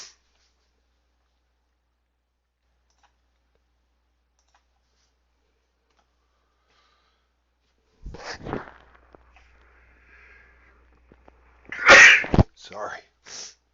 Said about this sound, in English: Enough with the sneezing, right?